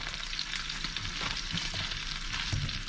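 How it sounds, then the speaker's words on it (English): Bread cubes sauteing in a pan of bacon fat and olive oil give a steady, close sizzle and crackle with a few small pops and light stirring clinks, and no one speaks. "So the bread will be sauteed in a mixture of bacon fat and olive oil."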